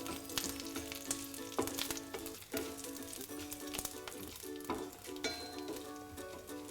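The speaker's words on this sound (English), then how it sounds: "We'll stir this until the Urad Dal turns a bit golden in color" Urad dal fries in hot oil in a pan while being stirred, a continuous crackling sizzle with frequent sharp spatula clicks and scrapes, close and steady with no voices.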